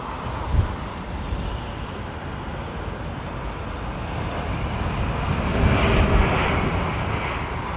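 An Airbus A380 on approach to London Heathrow with flaps and gear extended, a steady broadband engine roar that swells gradually toward the end as the jet draws nearer, with no voices.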